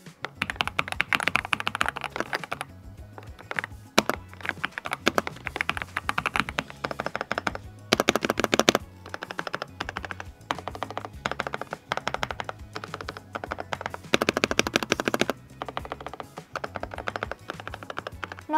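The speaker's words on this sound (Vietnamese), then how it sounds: "để mình sao test cho mọi người nghe tiếng phím của EK 98 Pro nhé." Typing on an EK98 Pro mechanical keyboard with pre-lubed switches, a steady run of soft, close keystroke clacks in quick bursts with brief pauses, heard alone without talk.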